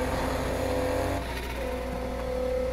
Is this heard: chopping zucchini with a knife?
no